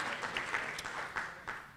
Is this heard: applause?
yes